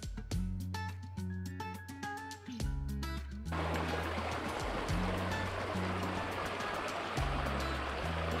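Stream water rushes steadily at Yarrangobilly in Kosciuszko National Park, a broad hiss that takes over midway after tonal music plays at the start.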